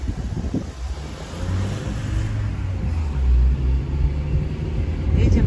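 A car driving home at night through Bellinzona, Switzerland: steady low engine and road rumble with a faint rising drone, continuous throughout with no talk over it.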